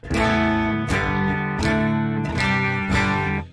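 Clean electric guitar chords strummed in a slow rhythm through an amp simulator with a flat EQ, each ringing out bright and full before the next strike, with no voices.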